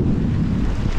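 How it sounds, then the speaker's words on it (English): Strong wind on a sailboat in the open ocean buffets the microphone in a continuous low roar, with a rushing, wave-like wash beneath it and no voices. "It's windy."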